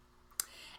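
A single sharp click of a computer mouse while working on fur material in Blender 3D software, brief and close in a quiet room.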